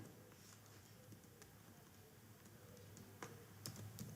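Keys clatter on a computer keyboard while cell names are entered into an Excel spreadsheet, a steady run of faint, close clicks with a few sharper taps near the end, under a quiet room hum and no talk.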